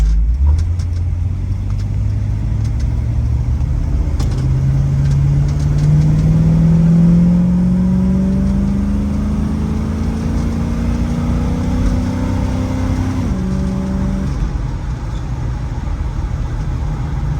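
A 1967 Ford Mustang fastback with a 390 engine accelerates hard, its loud engine note climbing steadily before an automatic transmission shift drops the revs, then it keeps pulling strongly up close.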